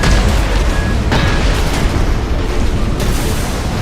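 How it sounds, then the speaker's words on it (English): Back-mounted artillery fires in Armored Core 6, giving a dense, continuous rumble of heavy booms and blasts. It sounds loud and close, with sharp impacts layered over a constant low roar. "Apparently, using this artillery round on my back has some sort of delay,"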